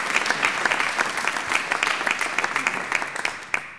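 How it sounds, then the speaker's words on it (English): An audience gathered for a church service claps, a full, steady round of applause with sharp individual claps rising out of the crowd and fading slightly near the end. "let's give him another round of applause for this great work"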